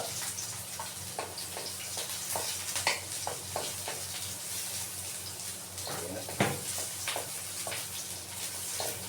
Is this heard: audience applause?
no